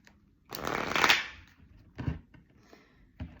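Deck of tarot cards being cut and shuffled by hand, a close, crisp riffle of flapping cards followed by a few soft taps as the stack is set down.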